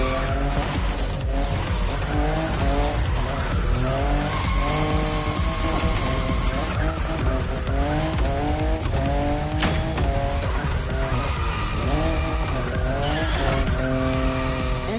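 A Toyota Supra, fifth generation, races and skids in The Crew Motorfest, its engine droning loud and steady with rising and falling revs and tire squeal, layered over music throughout.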